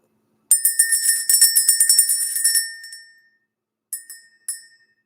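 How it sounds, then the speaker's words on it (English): A hand bell rung to clear stale energy gives a burst of bright, rapid metallic rings lasting a couple of seconds and then decaying, followed by two short single strikes, close and alone with no talk. "We're going to ring the bell."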